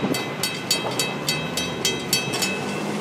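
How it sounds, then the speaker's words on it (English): A Florida East Coast (FEC) train, a long, fast train, rolls past close by, wheels clacking over rail joints in a regular rhythm with a steady rumble underneath. "What a speedy train!"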